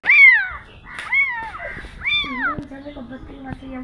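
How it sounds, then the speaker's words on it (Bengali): A stray kitten found on the street gives three loud, close, high-pitched meows in quick succession, followed by a low humming voice under quieter faint sounds. "হ্যাঁ, বিড়ালটা কইতেছে প্লিজ আমাকে নিয়ে যাও।"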